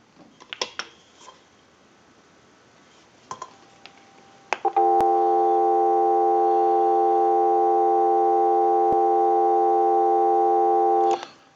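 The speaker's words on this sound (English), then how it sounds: "Now what we want to do is go ahead and give you some dial tone." A steady telephone dial tone from a Spacesaver telephone converted to run through an amplifier, coming in after a few brief clicks and holding loud and constant for about seven seconds.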